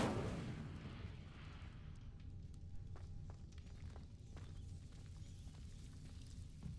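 Incendio, a fire spell cast in the Hogwarts Legacy video game, opens with a soft burst of flame that fades into a low rumbling crackle, faint and fairly brief.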